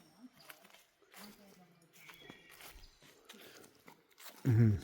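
Close, quiet chewing and crunching of a rice side dish eaten on the Appalachian Trail in North Carolina, with soft irregular bites and a louder thump at the end.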